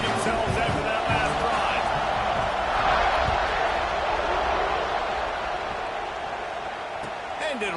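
A college football stadium crowd at Clemson roars and cheers after a touchdown, a broad, steady wash of distant noise under a commentator's voice.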